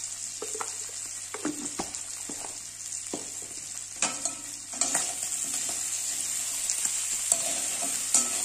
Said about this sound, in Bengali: ভালো করে নাড়াচাড়া করে নেব। কাঁকড়াটা ভালো করে ভেজে নেব।